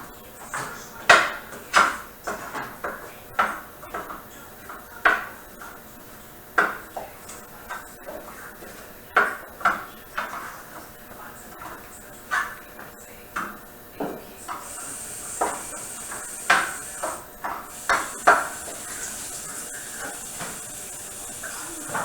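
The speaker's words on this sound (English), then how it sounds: "When it's in the skillet, you're going to take a spoon and break it up so it gets cooked" Ground beef cooks in a skillet over medium heat with a steady hiss while a spoon breaks it up, giving repeated scraping clinks against the pan at an uneven rhythm.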